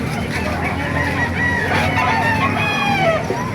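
Chickens and roosters at a crowded poultry market in Calumpit, Bulacan cluck and crow repeatedly, close and overlapping, over steady crowd babble.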